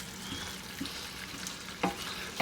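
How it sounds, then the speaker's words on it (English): A spoon stirs a thickening bolognese sauce in a hot pan, giving a faint steady sizzle with a few soft scrapes and clicks, no talking. "stir this around."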